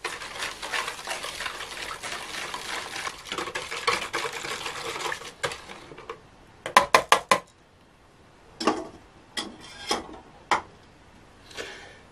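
Sugar being stirred into a Greek honey cookie (melomakarona) mixture in a bowl, a run of rough scraping and swishing, then a few sharp clacks and separate stirring strokes.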